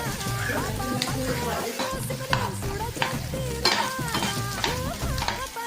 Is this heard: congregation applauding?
no